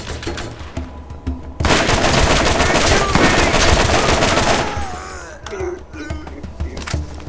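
Sustained, loud gunfire in the Borderlands shooter game, a dense automatic barrage that cuts in abruptly, roars for a few seconds, then thins into scattered shots and game effects.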